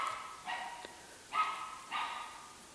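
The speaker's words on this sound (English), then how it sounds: "Now you can hear my dog, probably." A dog barking at a distance indoors, four separate short barks in an irregular rhythm with quiet pauses between them, fairly faint.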